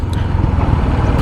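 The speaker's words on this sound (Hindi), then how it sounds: "अभी जो है ना आपको ट्रैफिक की आवाज़ भी बहुत ज़्यादा सुनाई दे रही होगी।" Loud, steady road traffic noise and wind rumble captured from a helmet-mounted DJI Mic Mini on a motorcycle ride, a continuous low roar with no speech.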